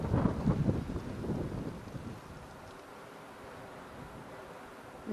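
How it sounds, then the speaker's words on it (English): Wind roars over a mountainside during a late-fall ATV ride, gusting loudly at first and then settling into a steady, softer rush with no voices. "You should hear the wind going through that thing."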